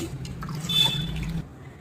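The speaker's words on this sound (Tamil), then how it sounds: "இதில் நீங்கள் தேவையான அளவுக்கு தண்ணி சேர்த்துக்கலாம்" Water is added to a pot of sambar, a short close splash and trickle of liquid with a faint gurgle that stops after about a second.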